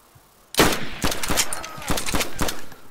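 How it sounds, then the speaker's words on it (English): Gunfire in the survival game DayZ breaks out after a short quiet, with a rapid cluster of loud, sharp shots in uneven succession, some echoing, close to the listener. "taking a shot. I hear shots."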